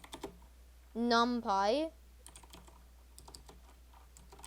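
Light clicking of typing on a computer keyboard while writing Python code, soft scattered keystrokes heard before and after a short spoken word.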